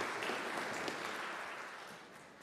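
Church congregation applauding a man and his wife during a Sunday service, a broad wash of clapping from many hands that slowly fades out, heard alone.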